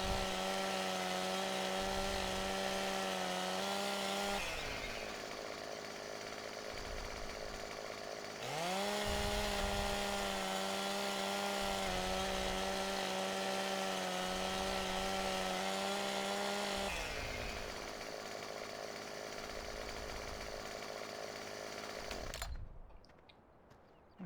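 Chainsaw in the video game Farming Simulator 2017, a loud, close, buzzing motor that surges and drops between cuts, revving high through long stretches before cutting off at the end.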